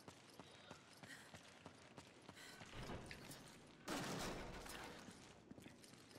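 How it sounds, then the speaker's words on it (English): Rapid bursts of machine gun fire ring out in a Resident Evil 5 co-op battle, sharp repeated cracks with a loud, dense volley midway, amid scattered impacts and no talk. "Machine gun."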